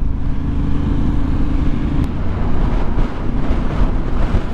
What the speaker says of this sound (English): That side wind then felt like it were going to tuck bike underneath me.